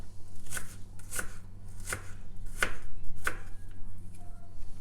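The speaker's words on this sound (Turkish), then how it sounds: "Bunları böyle ince ince kıyıyoruz." A knife finely chops food on a board in sharp, evenly spaced strikes, about six crisp taps over a low steady hum, with no voices.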